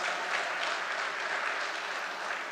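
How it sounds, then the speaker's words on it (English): A crowd at a PNM post-budget public meeting in Port of Spain, Trinidad and Tobago, applauds in a dense, sustained wave of clapping with no speech over it. "Let's give him a round of applause."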